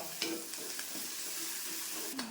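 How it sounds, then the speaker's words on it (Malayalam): Shallots, garlic and ginger fry over a high flame for a sardine dish, giving a steady close sizzle with occasional soft stirring scrapes and no talk. "നമ്മുടെ ചെറിയ ഉള്ളി വഴന്ന് മൂക്കുക ചെയ്യാനുള്ള ക്രിസ്പി ആവണ്ട. അപ്പോൾ അത് മൂക്കട്ടെ. ഹൈ ഫ്ലെയിമിലിട്ടാണ് ഞാൻ മൂപ്പിക്കുന്നത്"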